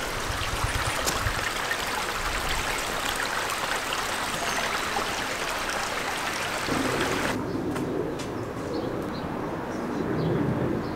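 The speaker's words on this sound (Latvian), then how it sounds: "kāpēc pa ielām tek ūdens?" Water runs steadily along the street gutters of Montmartre in Paris, a continuous trickling and splashing stream with a bright, busy texture, close by, with faint bird calls and no talk.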